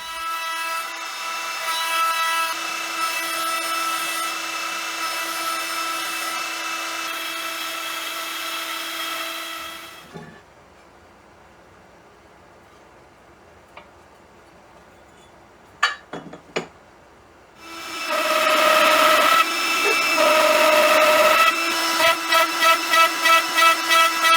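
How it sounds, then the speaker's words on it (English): CNC router cutting and countersinking wood, a loud steady whine with ringing tones, a quiet pause broken by a few sharp clicks, then the cutting resumes loud and close. "there are holes that need to be countersunk, and the CNC is doing that as well."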